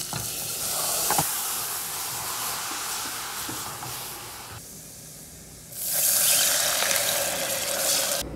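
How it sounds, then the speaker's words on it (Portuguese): Garlic and onion sizzle steadily in a home kitchen frying pan, with stirring scrapes throughout and a louder burst of sizzling partway through; no voices. "Tô fritando um alho e uma cebola, ó."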